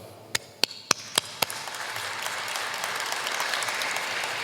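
Audience at a 50th anniversary gala in St. Louis begins with a few sharp separate claps, then swells into sustained, steady applause from a large crowd in a hall.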